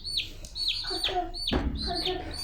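Small chick cheeping indoors, with several close, high-pitched peeps in quick succession and a short muffled rustle midway.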